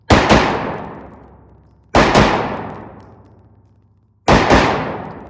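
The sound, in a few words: Springfield Echelon pistol firing rounds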